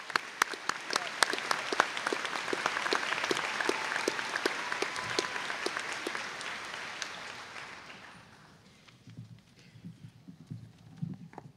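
Audience applause at a Class of 2018 high school graduation ceremony, dense sustained clapping that tapers off after about eight seconds, leaving a few scattered claps in a quieter hall.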